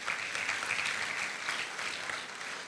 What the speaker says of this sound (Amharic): አጨብጭቡና አሜን በሉ እስቲ